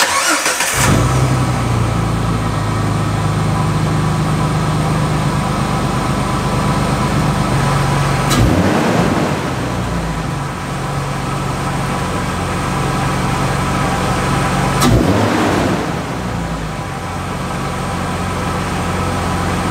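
A Jeep Wrangler TJ fitted with an aFe intake cranks and fires up, then settles into a steady idle with two sharp revs that swell and fall away, heard close with no talking.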